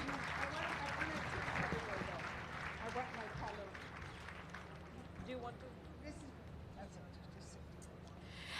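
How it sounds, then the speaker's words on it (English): An audience applauds at a Jaipur Literature Festival arts session. The steady, fairly faint clapping continues throughout. "have a louder round of applause?"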